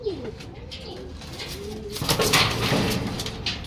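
Grizzle pigeons cooing in a loft, soft repeated throaty coos up close, joined by rustling and fluttering movement that grows louder halfway through.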